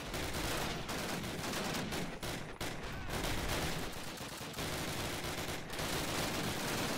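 Sustained machine gun and rifle fire from a World War II Call of Duty battle, dense overlapping bursts and shots filling the whole stretch at steady loud volume, with no talking over it.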